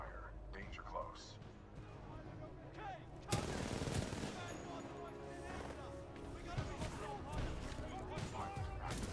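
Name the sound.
supporting gunfire from BT in video game Titanfall 2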